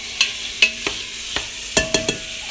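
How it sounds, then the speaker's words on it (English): Sausage browns in a pan, heard as sparse, sharp pops and spatters, about seven distinct cracks scattered irregularly over a quiet sizzling background. "Okay, the sausage is browning now."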